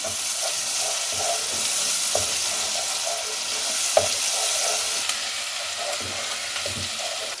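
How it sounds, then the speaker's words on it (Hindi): Steady sizzling and frying of garlic ginger paste with onions in a pan, with occasional stirring scrapes and clinks, continuous and fairly close, no voices. "इसमें 1 टीस्पून लहसुन अदरक पेस्ट वो डाल दें और उसे लहसुन अदरक पेस्ट के साथ भून लें"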